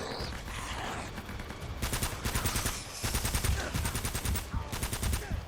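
Rapid automatic gunfire rattles in repeated bursts during an Uncharted: Drake's Fortune firefight at the Axis base, loud and close with short gaps between volleys.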